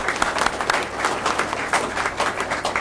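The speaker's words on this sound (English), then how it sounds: "I just want to give a round of applause for Tina real quick" Sustained audience applause at an Arkansas Department of Commerce event with Gov. Sarah Huckabee Sanders, dense steady clapping from a room of people filling the whole stretch.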